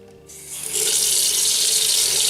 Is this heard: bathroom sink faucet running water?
yes